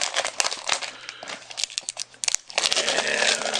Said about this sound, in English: There goes the sticker.